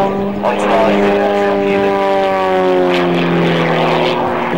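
A propeller aerobatic airplane flying a rolling circle at the Dessau airfield festival, a loud steady engine drone with shifting pitch that sweeps slightly across the whole stretch, nearby and dominant.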